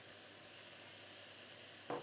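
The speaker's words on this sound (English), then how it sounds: "I'm going to add in the peppers because I want them to cook through" Peppers sizzle faintly in a pan of frying lasagne sauce, a soft steady crackle followed by a brief louder scrape of stirring at the very end.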